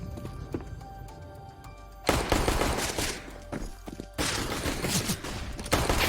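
Gunfire in a competitive shooter esports match (FURIA vs 100 Thieves, DreamHack Spring semifinal), with dense bursts of rapid shots cutting in loudly over a quieter game background, arriving in two heavy volleys.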